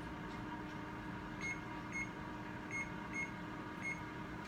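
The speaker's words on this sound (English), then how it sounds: "Setting a timer on the stove." A timer on a stove is being set beside an air fryer, giving a few short, faint electronic beeps spaced about a second apart over a steady humming drone.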